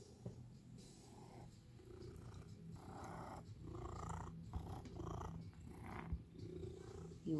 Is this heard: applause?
no